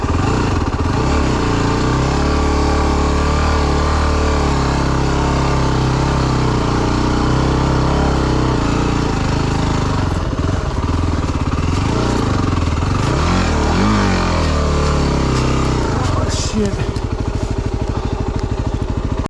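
A Yamaha WR250R dual-sport motorcycle engine revving steadily while riding, loud and close with rising and falling pitch as the throttle changes, wind rushing over it.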